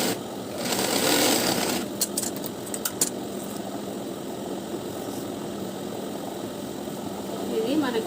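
A sewing machine stitches a blouse lining in place, a steady mid-level whirring run with a few sharp clicks near the start and a brief swell toward the end.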